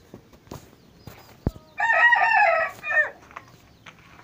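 A rooster at a poultry breeding farm crows once, loud and close, in a strong two-part call lasting about a second, with faint clicks and knocks around it.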